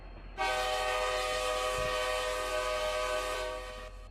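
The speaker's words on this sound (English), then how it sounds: "The bell works, and the train horn." A loud, sustained train horn in a video game blares steadily for several seconds, a bright multi-tone chord that cuts off near the end, with no talking.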